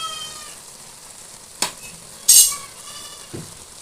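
Ground spice paste hits frying bottle gourd in a hot pan with a short, bright sizzle burst, bracketed by a couple of soft utensil knocks over a faint background hiss.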